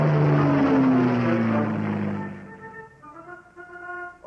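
Airplanes of the Ethiopian armed forces pass overhead in Addis Ababa in the late 1940s; a loud droning engine roar sweeps by with a falling pitch and then fades into a steadier, fainter hum.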